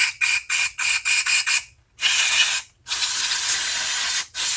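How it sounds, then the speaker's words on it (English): Carburetor cleaner sprayed into the idle jet of a lawn mower carburetor, a series of short, close hissing bursts followed by two longer sustained sprays. "And just give it a good sort of spraying."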